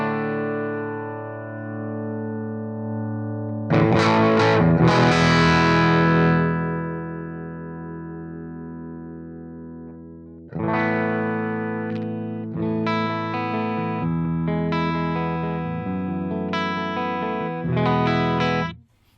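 An electric guitar played through a Little Champion amp model in ToneX rings out clean sustained chords and single notes, with a pause and then a run of strummed chords, bright and alone.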